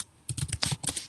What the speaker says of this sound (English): he's typing away. It's very loud.